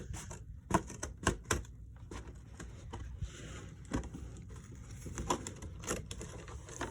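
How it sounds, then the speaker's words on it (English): Scissors snip a flap off a model theatre stage in a quiet room, making a run of faint, crisp clicks and cuts at an uneven pace. "I think that scissors are going to be a little bit easier just to cut this off with"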